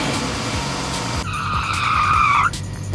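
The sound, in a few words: car engine cranking and starting after oil leak repair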